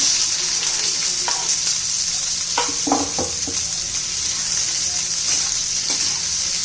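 Onion and coriander seeds fry in hot oil in a pan for rajma masala, a loud, continuous close sizzle with a few brief stirring scrapes midway and no voices.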